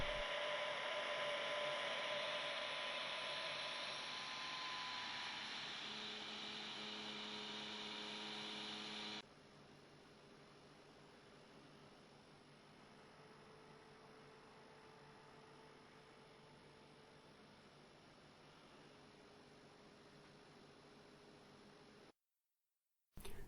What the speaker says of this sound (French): J'ai donc changé le ventilateur 40-10 sans attendre qu'il tombe en panne pour un modèle moins bruyant.